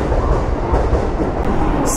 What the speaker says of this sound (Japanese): 本日多客機ということで堂々の7両編成での運転でした